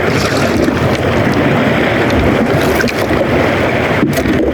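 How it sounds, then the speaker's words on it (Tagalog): Strong wind roars steadily and loudly across the microphone on a boat, with a constant blustery rush and water noise beneath it. "Malakas na yung hangin."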